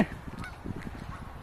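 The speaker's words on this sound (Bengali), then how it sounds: "অনেক অনেক অনেক বন্য হাঁস দেখো" Wild ducks honk on the ice of a snowy park, a few short calls fairly close at first, then a scattered, softer chatter that continues under a steady outdoor background.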